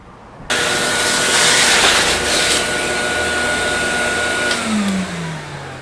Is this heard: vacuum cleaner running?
yes